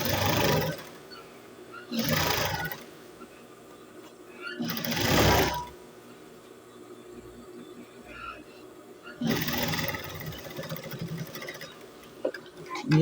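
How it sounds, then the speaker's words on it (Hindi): A sewing machine stitches the folded hem of a ladies' trouser in several loud bursts, separated by brief quieter pauses, with no talk. "ये देखें, ये पांचे पे सिलाई लग गई।"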